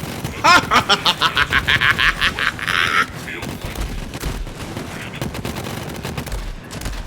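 Borderlands 3 gunfire in a rapid burst of about a dozen evenly spaced loud shots at the start, followed by scattered crackling impacts and game noise.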